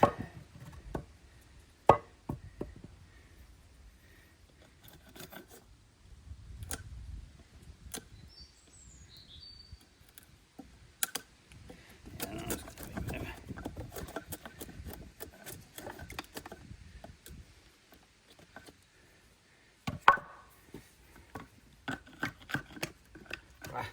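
A chisel struck with a mallet cuts into wood for garden benches outdoors, with sharp, irregular knocks and cracks, some louder hits, and quiet scraping and rubbing between strikes.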